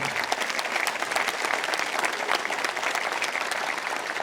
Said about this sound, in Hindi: पाकिस्तानियों के लिए ताली।